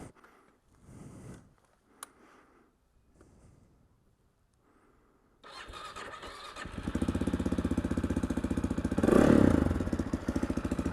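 An AJP PR7 motorcycle with a remapped ECU starts up after quiet handling noises, then its single engine runs at a steady close idle before revving louder for a moment and settling again.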